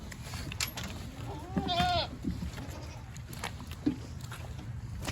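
A goat gives one clear, wavering bleat over outdoor noise on a farm, with a low rumble and scattered soft thuds that may be footsteps around it.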